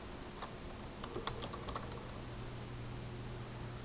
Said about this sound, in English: In the Add Arguments section, I'm going to type